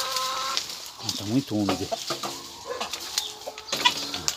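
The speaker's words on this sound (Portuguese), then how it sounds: "As galinhas aqui não gostam muito de milho não" Chickens cluck around a rural farm plot soaked by recent rain, close and repeated clucks mixed with a person speaking briefly in Portuguese.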